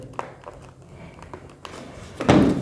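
Battery door of a DT9205A digital multimeter being fitted and closed, a few soft plastic taps and clicks followed by a louder, fuller clack near the end, close up with no speech.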